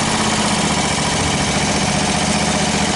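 A John Deere riding mower engine runs at a steady idle outdoors on a hot day, a loud, even, close-up rumble with constant vibration and no voices.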